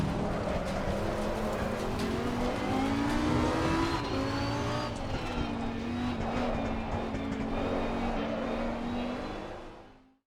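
A race car engine revs in the Assetto Corsa driving game, a loud continuous whine that climbs and shifts pitch through gear changes, then fades out at the end.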